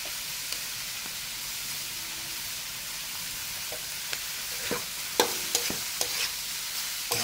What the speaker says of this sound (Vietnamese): xào cho nó thấm gia vị thôi ha, không xào lâu quá